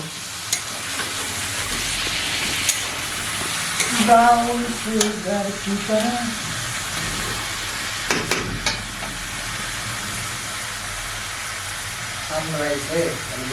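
Desi duck meat is stirred and fried in spices, with a steady low sizzle and scraping throughout, and a voice talking briefly in several places.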